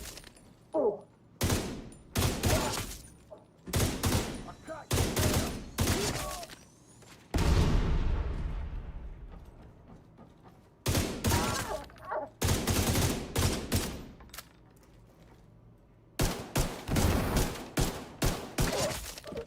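Bursts of full-auto LVOAC rifle fire in The Division 2 video game, loud sustained volleys repeating over and over with brief pauses between, plus a sweeping whoosh or explosion-like roar in the middle.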